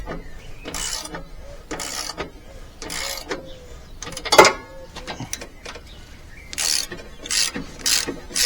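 A ratchet wrench loosens the rear axle nut on a Lifan King motorcycle, giving repeated bursts of rapid metallic clicking, up close and fairly loud, with a sharper clank midway and short gaps between strokes.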